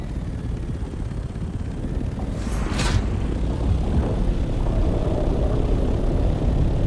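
An ornithopter gliding in the video game Dune Awakening, a steady loud rushing engine and wind roar that holds throughout, with a brief higher whoosh partway through.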